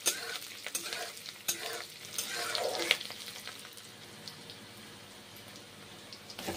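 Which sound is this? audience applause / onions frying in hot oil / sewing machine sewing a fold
onions frying in hot oil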